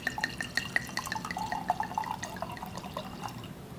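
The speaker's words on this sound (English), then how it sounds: "let me pour some of this" White wine from Old York Cellars trickles and drips into a wine glass at a tasting, a light, close liquid patter with small splashes and glassy tones, no talking.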